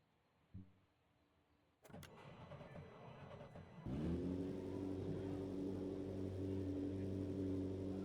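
A McLaren 720S with a 3.8 engine in a racing video game is heard after a brief knock and a short rise of noise, then settles into a loud, steady, droning rev that holds to the end.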